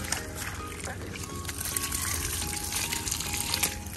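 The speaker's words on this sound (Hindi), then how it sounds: "ओ वाले पाइप चो पानी सीधा आंदा नीचे।" Water gushes down from a garden pipe in a steady splashing stream, close and moderately quiet, with faint background noise.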